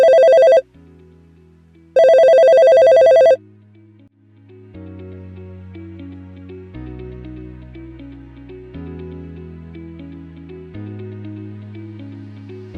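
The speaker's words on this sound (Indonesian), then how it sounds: "Gimana kalau kita langsung telepon orang dinasnya" A telephone ringtone plays in two loud electronic ringing bursts, followed by a softer tonal melody as the phone waits to be answered during a regional government office discussion.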